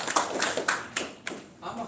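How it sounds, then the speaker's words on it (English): Audience applause at a Toastmasters club meeting: a handful of sharp, separate claps from a small group, uneven in rhythm, over a short stretch with a quieter gap near the end. "Please give him a big round of applause."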